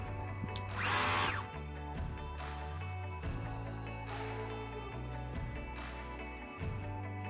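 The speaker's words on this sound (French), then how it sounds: "Et maintenant, ponçage par pep." A power sander works over MDF boards, a steady, fairly faint whirring hum that swells briefly and runs on without pause, with no talking.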